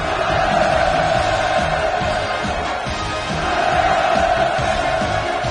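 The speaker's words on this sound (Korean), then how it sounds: "열광의 환호성이 끝없이 울려갔습니다" A huge crowd roars and cheers without pause at the completion ceremony of the Wonsan Kalma coastal tourist zone, a loud, sustained wall of voices rising and falling slightly.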